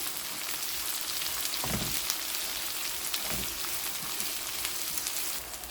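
Onions frying for a South Indian chicken curry, giving a dense, continuous crackling sizzle with a couple of soft stirring scrapes, close and steady, with no talking.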